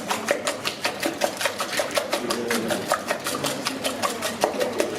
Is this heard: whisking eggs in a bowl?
yes